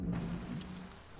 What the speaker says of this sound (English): Small hole in the pipe. Water spraying all around.